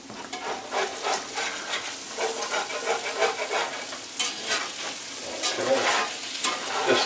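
Food frying and being stirred in a cast iron pan, with a steady sizzle broken by repeated scraping strokes of a utensil against the iron, close and fairly loud throughout.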